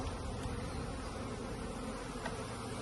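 Many honeybees at an open hive buzz together in a thick, continuous drone, close by and steady, with no voices.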